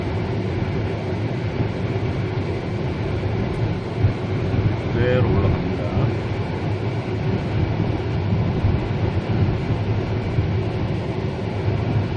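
Steady broadband blowing noise of air conditioning at full inside a Hyundai Grandeur XG, constant and loud throughout with engine hum underneath.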